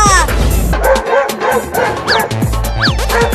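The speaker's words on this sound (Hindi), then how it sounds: "अबे कुत्ता छोड़ दे मुझे।" Close, loud dog barking in a desi comedy skit, with a quick series of sharp yaps and bow-wows running continuously and a few whiny, higher-pitched yips mixed in.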